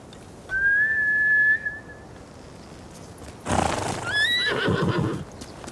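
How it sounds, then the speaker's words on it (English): Horses in the Ghost of Tsushima video game: one long high whinny, then after a pause a louder neigh with snorts and clopping hooves, outdoors with no talking. "Bastards scared off the horses."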